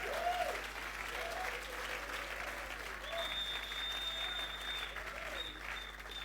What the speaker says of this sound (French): Come on, clap your hands as she comes.